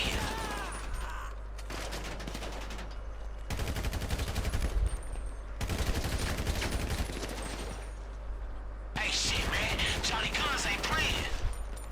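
Rapid automatic gunfire from the player's weapon in the video game Agency, sounding in several sustained bursts of close, loud shots separated by brief changes in the background.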